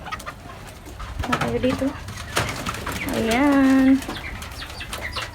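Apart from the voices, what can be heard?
pigeons and native chickens on a farm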